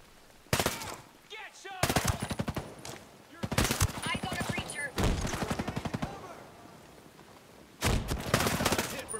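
Automatic rifle fire rattles in several loud bursts during a firefight in the video game Ghost Recon: Breakpoint, with short quiet gaps between them and someone talking in between.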